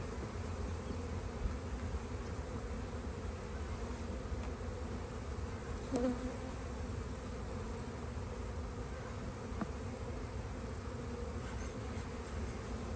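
Honeybees buzzing steadily during a spring hive inspection while the colony is on a nectar flow, a close, continuous hum with no talk over it.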